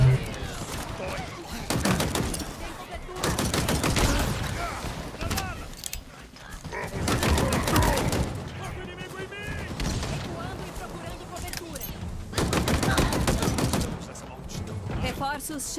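Dense bursts of rapid gunfire from Halo Infinite campaign combat on Xbox Series X, loud sustained volleys with brief lulls, a voice talking over the action.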